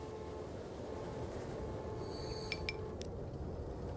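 A commuter train in the game Transport Fever 2 rumbles along steadily with a low rolling drone, then a few short high squeals or chimes ring out near the end.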